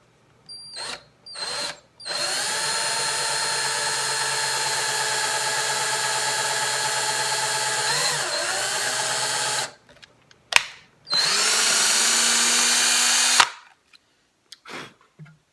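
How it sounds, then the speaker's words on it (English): A power drill bores a strap-button hole into a ukulele body in two bursts, a long steady whine followed by a shorter one, close and loud with brief clicks between. "And I'm going to drill."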